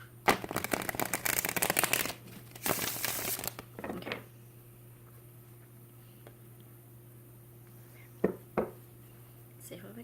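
Tarot cards are shuffled briskly up close in a couple of quick riffling bursts, followed by quiet with a few soft taps.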